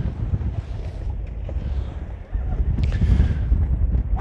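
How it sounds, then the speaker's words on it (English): Strong wind buffeting a lobster-fishing boat off the coast of Norway, a loud continuous low roar and microphone rumble with surging gusts, water slapping faintly beneath, no speech. "the wind is really ripping today"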